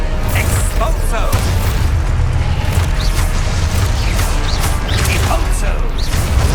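Expulso spell explosions in Hogwarts Legacy, loud repeated booming blasts and crashes amid continuous combat noise, with a voice calling out over the action.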